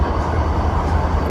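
Freight train hauled by four locomotives passing, a steady low engine rumble with deep throbbing, close and continuous, with no voices.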